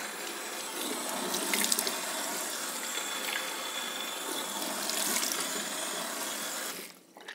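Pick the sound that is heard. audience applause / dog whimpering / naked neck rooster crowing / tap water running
tap water running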